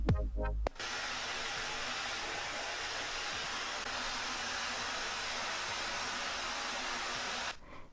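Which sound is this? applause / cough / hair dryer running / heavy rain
hair dryer running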